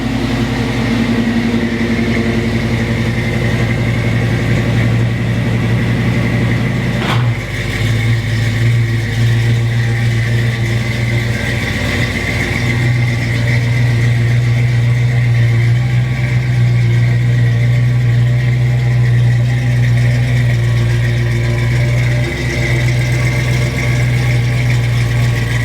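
A 1972 Ford Bronco engine runs at a fast idle on its electric choke just after a cold start, a steady, loud, close drone with a brief dip partway through and no talking.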